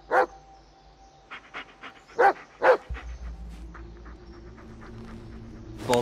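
A dog in the Blair Witch video game on Xbox One, heard through several loud bursts of barking-like vocal sound, then softer rhythmic breathy panting that carries on over a low steady hum.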